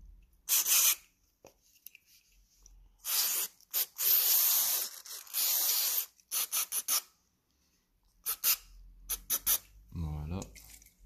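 Short bursts of aerosol degreaser spray hit the parts of a Poseidon P17 airsoft pistol, hissing in several separate blasts with brief gaps, and someone speaks briefly between them.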